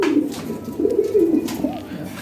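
European Lahori Sirazi pigeons coo close by in a loud, rolling, repeated call, a second softer coo rising near the end, with no speech.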